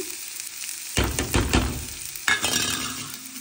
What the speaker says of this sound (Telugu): ఈ స్ప్రౌట్స్ని అయితే నేను దీంట్లో యాడ్ చేస్తున్నాను